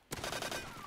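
A short burst of rapid gunfire in the Roblox game Call of Duty WW2, with several quick sharp shots starting abruptly and ringing out into a fading tail.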